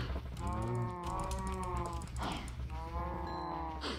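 Minecraft cows lowing in drawn-out, harmonic moos, two long calls in a row, loud and close, with faint clicks from right-click feeding at the edges.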